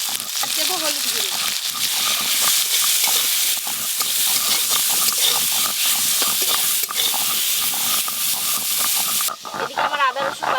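Cut bitter gourd hits hot mustard oil tempered with five-spice and dried chillies, giving a loud, dense sizzle with stirring scrapes throughout, easing off near the end, while a person speaks over it.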